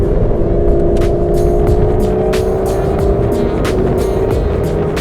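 V12 car engine pulls hard out of corners, a loud, steady, droning roar with a rising tone held throughout, close up and alone, with occasional faint clicks over it.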